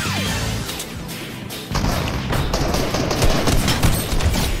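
Gunfire in the Fortnite video game, a burst of loud rapid shots and heavy thuds that intensifies partway through, with no talking over it.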